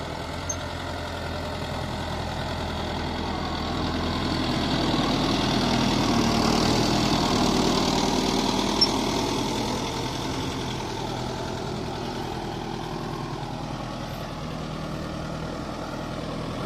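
A tractor engine drones steadily while pulling a 5-tyre cultivator through soil, a continuous mid-distance rumble that swells slightly and then holds even.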